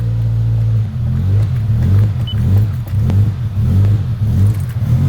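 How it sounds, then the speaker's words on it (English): A car engine idles roughly with no throttle response, its low rumble surging and dipping in a steady uneven rhythm, close and loud, with faint clinks over it and no talk. "it's still doing that weird idling like before"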